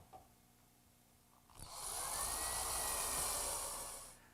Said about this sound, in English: Now I'll just secure it with a few screws.